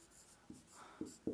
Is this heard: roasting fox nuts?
no